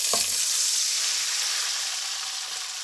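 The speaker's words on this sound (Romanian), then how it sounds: "Acum că toate s-au călit, punem vinul alb." White wine hits a pan of sautéing mussels, setting off a loud, steady hiss and sizzle that slowly fades over a few seconds.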